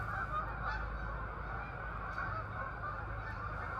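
Canada geese honk during a migration gathering at a recreation park in Malone, NY, with several nasal calls over a steady outdoor rumble.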